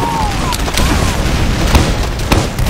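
Team Fortress 2 gameplay with a Demoman's grenades going off in a few sharp, booming blasts amid continuous loud game noise and clatter.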